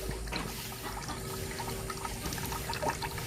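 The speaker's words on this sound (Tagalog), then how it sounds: "buti na lang medyo nagbalik na yung tubig oh" A tap dribbles water again on a hot, overcast Saturday, a thin steady trickle and splash running through the whole stretch at moderate level with outdoor background noise and no talk.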